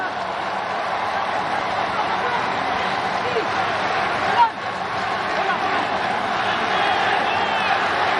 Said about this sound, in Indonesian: Irfan Jaya mendengar sorak-sorai para supporter Indonesia yang datang ke stadion Stadion Nasional Singapura di Kallang